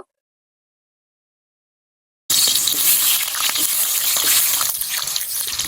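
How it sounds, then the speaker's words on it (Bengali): Potatoes frying in a hot wok burst into a loud, steady sizzle after two seconds of silence, with a dense spattering hiss close up and no talking. "আমার কড়াই গরম হয়ে গেছে, ভেজে নিতে হবে। আমি আলুটা ভেজে উঠিয়ে নিব।"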